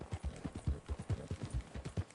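Horse hooves clip-clopping in the video game Red Dead Redemption 2, a steady rhythmic walking gait of soft low thuds, close and fairly quiet, with no voices over it.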